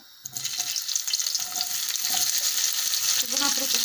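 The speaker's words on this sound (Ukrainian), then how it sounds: "сковорідка тим часом вже розігрілася, я буду е, висипати сюди паприку в один шар" Loud, steady sizzling as peppers are spread in a single layer into a hot pan and start frying, a dense crackling hiss that builds and continues without pause.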